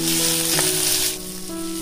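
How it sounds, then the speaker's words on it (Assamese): Onion and garlic frying in mustard oil, added after cumin and a dried red chili, giving a loud, steady close-up sizzle that crackles throughout and softens slightly toward the end. "মই ইয়াতে দিম পিঁয়াজ আৰু নহৰু এতিয়া এইখিনিও ৰঙচুৱাকৈ ভাজি ল'ম"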